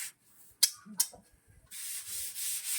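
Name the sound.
sanding with sandpaper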